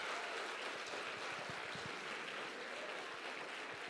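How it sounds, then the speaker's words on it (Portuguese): Church congregation applauding after a sermon, a soft, even wash of clapping that sounds somewhat distant and holds steady throughout. "Pode aplaudir."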